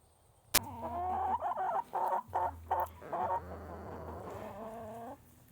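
Egg-laying hens on a cold farm cluck close by in short, choppy bursts with brief pauses, and no talk is heard.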